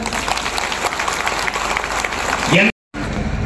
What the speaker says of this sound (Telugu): ఇప్పుడు ఒకసారి చప్పట్లు కొట్టండి అందరూ.